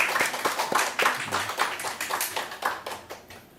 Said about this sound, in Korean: 멀리서 왔으니까 우리 큰 박수로 환영하겠습니다